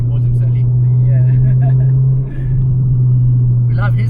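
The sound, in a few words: cars driving around nearby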